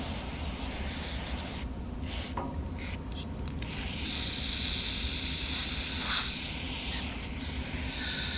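Carburetor cleaner sprays in a steady close hiss onto the carburetor of a Cub Cadet 2X snowblower, a few seconds of continuous spray after some brief handling noises.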